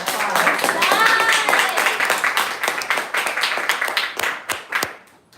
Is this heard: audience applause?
yes